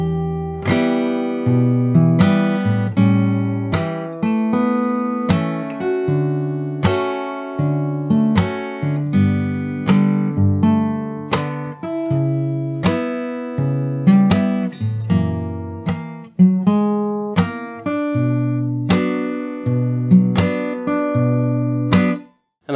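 Fingerstyle guitar plays the first verse of a jazz standard, with bass notes answered by chords rung with a slap, in a steady, close, loud pulse that stops abruptly at the end.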